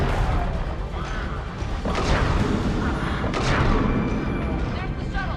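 Explosion during a firefight in the Mass Effect 3 Grissom Academy Cerberus mission: heavy booms and crashing blasts with gunfire, loud and sustained, mixed with dense combat noise.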